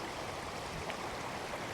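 Floodwater rushing and foaming down a swollen river channel, a steady broadband roar filling the whole short stretch at close range, with no voices.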